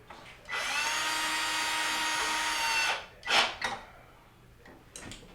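A power drill drives a screw while reattaching the evaporator fan inside a GE refrigerator's fresh food section: a steady, close whir of about two and a half seconds, then brief handling clatter and clicks.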